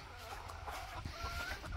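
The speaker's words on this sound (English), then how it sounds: "Chickens are happy." Backyard chickens cluck softly on a cold autumn morning in a garden, a few short calls close by over faint outdoor background.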